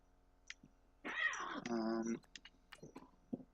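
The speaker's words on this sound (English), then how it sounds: "My cats are kind of playing" Cats playing in a room give one drawn-out, wavering meow, with light clicks and taps scattered before and after it, fairly close in an otherwise quiet space.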